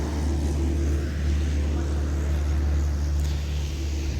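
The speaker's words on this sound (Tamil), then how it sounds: "எஸ்டேட்டுக்கு டிராக்டர் போகுது." A tractor drives past on a road toward a tea estate in the green hills of Munnar, its steady low engine rumble close and continuous throughout, with no talking.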